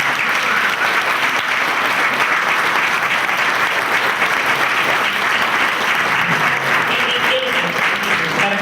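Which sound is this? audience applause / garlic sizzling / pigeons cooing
audience applause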